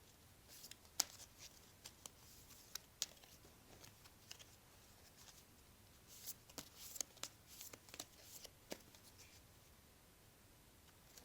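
Faint, scattered papery clicks and soft riffles of tarot cards being shuffled and drawn in a quiet room, with light taps coming in irregular bursts.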